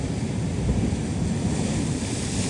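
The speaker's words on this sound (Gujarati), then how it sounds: "બાકી તો દરિયો છે ને ફૂલ તોફાનમાં છે" Rough, storm-tossed sea with waves around ten feet high, heard as a loud, steady, unbroken roar of surf mixed with heavy wind buffeting the microphone throughout.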